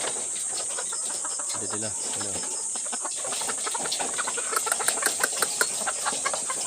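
Layer chickens about sixteen weeks old cluck and chatter at a poultry farm, soft and steady under a constant high insect-like hum, with a brief spoken line early on.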